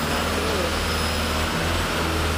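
Inside a moving minivan with a fault that has cost it third and fourth gear, a steady, loud low engine and road drone hums without pause.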